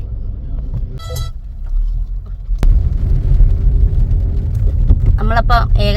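A car drives along a road toward a temple in rainy weather, its engine a steady rumble with a few short horn toots from nearby traffic and a sharp knock partway through; a voice speaks over the road noise.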